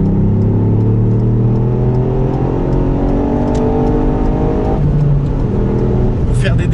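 A 2018 Ford Fiesta ST with a three-cylinder petrol engine accelerating hard, its revs climbing in steady sweeps through the gears, loud and close, with a voice talking over it.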